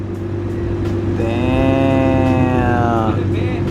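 A Supra's exhaust sounds through the downpipe with a low steady idle rumble, then a tonal, slightly rising drone for about two seconds, close and loud, with no talking.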